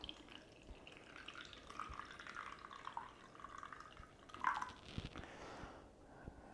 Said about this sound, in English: And then just pour it in as I can into the jar.